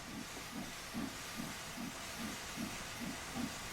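A steam locomotive in Train Sim World 2 blows off steam in a steady, faint hiss, with soft rhythmic chuffs pulsing about twice a second beneath it.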